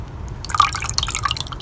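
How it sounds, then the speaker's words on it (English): Water poured and dumped out of a lizard's enclosure, with drips and small splashes landing close by in quick irregular succession over a low background rumble. "I'm gonna just dump all the water out."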